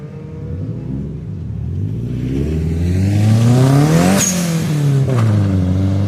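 A Nissan 240SX drift car revs loudly at a drift event, its engine pitch climbing steadily, peaking in a sharp high surge, then falling back to a strong, sustained rumble.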